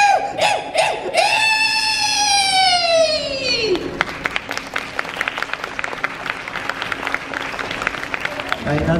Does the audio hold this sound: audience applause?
yes